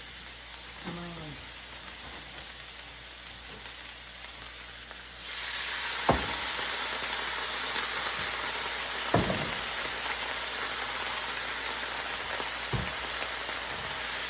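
Shredded cabbage frying in a pan for Filipino pansit noodles, a steady close sizzle that jumps louder midway, with a few sharp clatters of stirring scattered through.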